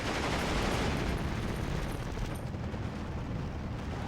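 Tank guns fire together in the WWII strategy game Steel Division 2, including a Panzer B2's 47mm and a larger HE gun, heard as a dense, continuous roar of overlapping blasts and rumble with no talking.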